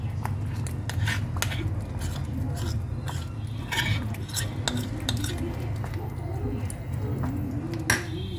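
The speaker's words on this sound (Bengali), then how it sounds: "এবার পুরো জিনিসটা ভালোভাবে মেশাবো" Homemade chyawanprash is mixed with ground spices and honey in a pot, a spoon clinking and tapping irregularly against the vessel over a steady low background hum.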